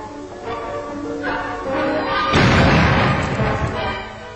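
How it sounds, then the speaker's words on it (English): An ordinary bomb exploding on contact, a deep rumbling boom that swells midway and lingers as a heavy roar, loud and alone without speech. "an ordinary bomb exploding on contact"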